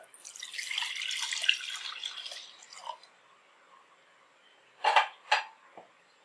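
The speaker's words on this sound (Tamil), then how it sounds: "இந்த பால் அதில் ஊற்றிக்கலாம்." Cooled milk poured for rose milk, a soft splashing stream for a few seconds, then a couple of light clinks of a container near the end.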